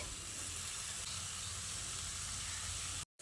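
Medium chopped onion sizzling in a pan of frying potatoes and pointed gourd cooked with little oil, a steady close hiss of frying that cuts off abruptly near the end.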